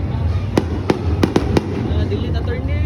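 Fireworks burst at the Sinulog 2026 festival as five sharp cracks in quick succession over a constant crowd murmur and distant rumble, with people talking throughout.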